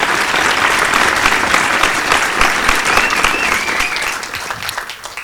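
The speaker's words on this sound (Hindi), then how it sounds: "उसके बाद एक जबरदस्त ताली बनती है" Loud, sustained applause from an awards-ceremony audience clapping for Sunny Shah, a thick continuous wash of many hands that stays strong and then eases off slightly toward the end.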